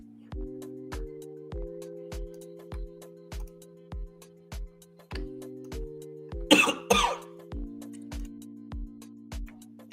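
Two quick, harsh coughs break through a soft, repeating musical loop of plucked notes that keeps playing underneath.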